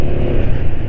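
A Yamaha NMAX scooter engine runs close by, its oil at 692 km of use, giving a loud, steady mechanical drone with slight pulsing and no pauses.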